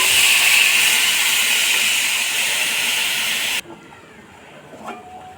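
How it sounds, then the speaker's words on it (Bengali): A loud, steady hiss of water poured over fried pulao rice in a hot pan, roaring for a few seconds then cutting off abruptly into quiet bubbling. "এখন আমি এখানে পানি দিয়ে দেব।"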